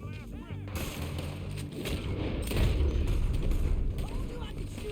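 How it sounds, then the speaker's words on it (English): Gunfire in the video game Red Dead Redemption 2, a dense stretch of shots and booming blasts layered with mechanical clatter and game ambience, loud and continuous throughout. "Told you I could shoot a gun, didn't I?"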